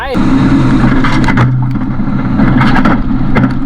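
An Isuzu V-Cross 2020 pickup truck engine revs steadily and loudly for a few seconds as it takes a bridge approach, a continuous close drone with voices talking over it.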